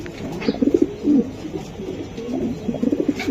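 Racing pigeons from the BRPFC club coo nearby in soft, throaty bursts, one cluster early, another partway through and more near the end, over a low background murmur.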